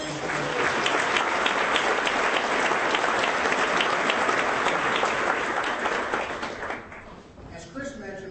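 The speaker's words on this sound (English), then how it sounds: "Please, a big round of applause to all the runners around." An audience at a breakfast event applauds steadily, a dense wash of clapping that fades out toward the end, with a voice starting faintly afterward.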